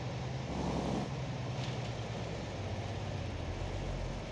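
A truck engine idles in BeamNG.drive, a steady low rumble that stays moderately loud and unbroken for several seconds with no voices over it.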